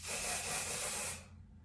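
Dry texture and volume hairspray sprayed onto hair at the roots from close range, one continuous loud hissing burst lasting about a second before cutting off, with no talk.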